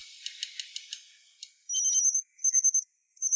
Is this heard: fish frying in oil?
no